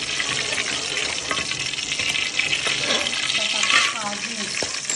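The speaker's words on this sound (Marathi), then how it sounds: "तूप थोडा गरम झाला का काजू भाजून घेऊ." Cashews roast in a spoonful of hot ghee, a dense bright crackling sizzle close up with faint scraping of a spoon now and then, no speech.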